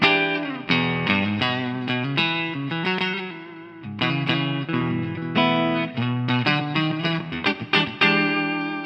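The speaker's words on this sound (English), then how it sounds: "Clean reference tone here, and I'm in the single coil mode now." Electric guitar played through a KingTone Blues Power pedal with a clean reference tone in single-coil mode: bright, ringing chords and single notes strummed in loud rhythmic bursts with short pauses, alone with no talking.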